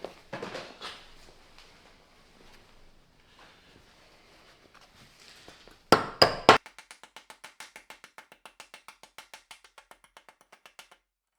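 A chipping hammer knocks slag off a fresh weld: a few scattered scrapes and taps, then three loud metallic strikes followed by a fast, evenly spaced run of lighter ringing taps, close up and alone.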